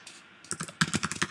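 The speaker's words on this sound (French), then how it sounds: "Je tape le titre." A computer keyboard being typed on nearby: a few soft taps, then a quick, fairly even run of clicking keystrokes, alone and fairly quiet.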